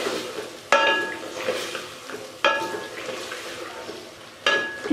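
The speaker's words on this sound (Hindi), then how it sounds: "इसको मैंने मिक्स कर दिया" Chicken and pumpkin stirred in a pot with a spoon, three sharp clanks of utensil against metal standing out over a steady soft scraping and sizzling background, fairly close.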